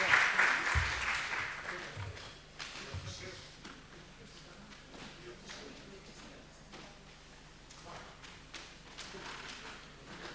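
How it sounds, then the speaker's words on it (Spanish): Applause from a symposium audience on colonial memory and internal decolonization, a steady spread of clapping that fades over the stretch, with some voices and shuffling mixed in. "vamos a darles un fuerte aplauso"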